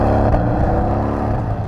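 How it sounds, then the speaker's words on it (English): A 2018 Porsche 718 GTS turbocharged four-cylinder engine revs loud and close, its steady, throaty harmonic drone holding with no voices. "you get an interesting sound from the new turbo 4-cylinder engine"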